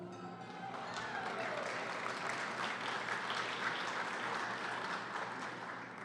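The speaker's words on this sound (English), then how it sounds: "please hold your applause while I announce the name" A luncheon audience at the City Club of Portland centennial breaks into sustained applause for an award recipient, a dense even clapping that swells in after a brief voice and holds steady to the end.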